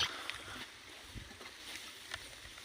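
A boat moving through village floodwater in Assam, with a soft continuous wash of water and faint splashes at a steady low level, no voices.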